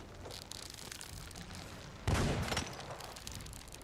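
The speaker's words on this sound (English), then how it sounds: "I just used the harpoon gun" A harpoon gun fired in the pirate game Sea of Thieves, one short loud burst with a booming crack midway through, set against quiet game ambience.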